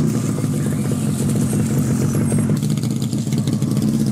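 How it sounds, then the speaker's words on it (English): Postman Pat's postal scooter whizzes along a village street, a continuous buzzing, clattering motor hum that stays fairly steady and close throughout. "Pat came whizzing along the village street on his postal scooter."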